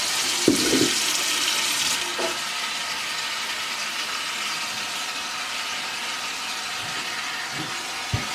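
Tap water runs steadily into a kitchen sink while hyssop leaves are washed, a constant close rushing with a few faint knocks and splashes.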